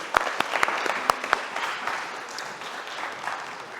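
Congregation applauding in a Korean church service in Berlin after members are thanked and awarded, a steady wash of many clapping hands with a few louder claps near the start, moderately close and without talk.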